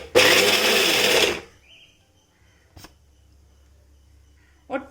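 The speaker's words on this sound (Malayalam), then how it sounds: "അപ്പം നമുക്ക് മിക്സിയുടെ ജാറിലേക്ക് ഇതിട്ടിട്ട് അരച്ചെടുക്കാം." A mixer grinder blends a dry roasted chilli and turmeric spice mix, a loud, steady whirring grind of about a second and a half that cuts off abruptly, followed by quiet clatter and light handling sounds.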